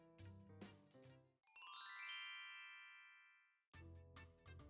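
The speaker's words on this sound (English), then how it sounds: "I have been trying to get your attention by ringing your doorbell" A doorbell rings in a two-tone chime, bright and ringing out slowly to silence, with talk before and after it.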